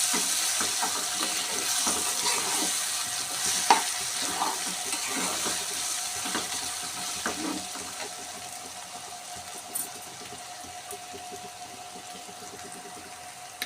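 Curry frying in a pan while being stirred: a continuous sizzle with scraping stirring strokes and occasional clinks, gradually easing in loudness over the stretch, with no talking.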